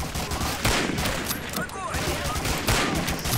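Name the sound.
gunfire in the video game Medal of Honor: Allied Assault Spearhead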